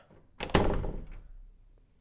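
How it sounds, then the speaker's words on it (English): A door closes against HushBumps pads with a single muffled thunk and short fading rattle, close and alone. "So one positive with these HushBumps, you won't have the door slam anymore as bad"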